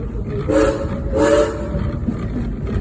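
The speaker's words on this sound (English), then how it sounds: "can I get 3 toots on that whistle, please?" A train whistle on a cab ride, giving two distinct toots about a second apart over a low rumbling engine and track noise, with no voices.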